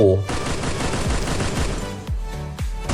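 Groza assault rifle firing in the Free Fire mobile game: a rapid automatic burst of sharp, closely spaced shots, loud and continuous, with a few heavier reports near the end.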